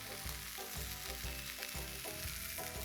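Red onions and capsicum sizzle and fry in a hot sizzler pan, a constant crackling hiss with soft thuds of stirring at irregular intervals, fairly quiet and close.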